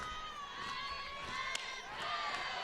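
A distant stadium crowd at an NCAA softball championship game, Ole Miss against Arizona, gives a low murmuring groan with faint scattered voices, steady and soft throughout.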